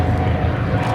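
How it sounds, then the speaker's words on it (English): A Grumman F6F Hellcat warbird flies past, its propeller engine a loud, steady low roar filling the whole second without a break. "As the Hellcat goes by"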